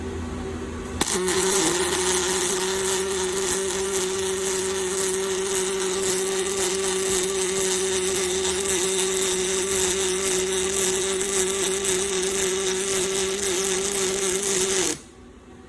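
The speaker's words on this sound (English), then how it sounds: "I am going to turn my weld on" A Fanuc welding robot strikes an arc and runs a continuous weld, a steady buzzing hum with a bright crackle that starts abruptly, holds evenly for about fourteen seconds, then cuts off.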